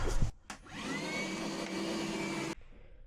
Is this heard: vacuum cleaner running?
yes